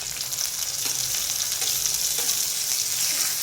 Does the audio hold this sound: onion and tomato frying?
yes